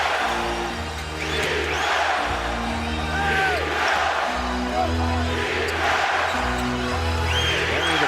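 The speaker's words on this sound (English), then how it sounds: "Only the crowd on its feet chanting defense" Basketball arena crowd at the NBA Finals, Celtics versus Lakers, on its feet chanting in a loud, rhythmic, repeated roar that fills the hall with steady cheering and whoops.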